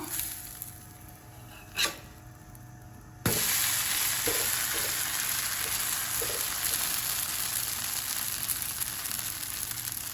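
A dosa cooks on a hot pan: after a quiet start with one light knock, a loud steady sizzle begins abruptly and continues close up to the end.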